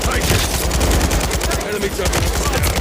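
A light machine gun fires in Call of Duty MW3, rapid continuous bursts of loud, dense gunfire rattling without pause through the whole stretch.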